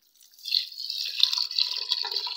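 Water mixed with turmeric, red chili and coriander powders pours steadily into a metal pressure cooker of moong dal, a close trickling and splashing that starts after a brief pause and continues to the end.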